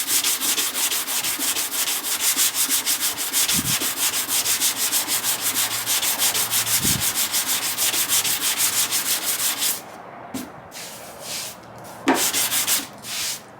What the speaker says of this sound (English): And remember our cross sanding, and do X's